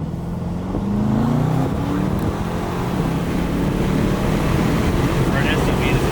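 A tuned Aston Martin DBX turbo engine accelerates hard in a loud, sustained roar that holds steady throughout, with voices speaking over it.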